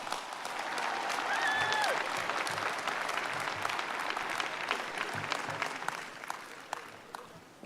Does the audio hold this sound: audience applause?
yes